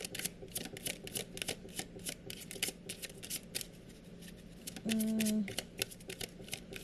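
Tarot cards are shuffled by hand in quick, repeated riffling bursts of papery slaps, with a brief tonal hum partway through; no one speaks.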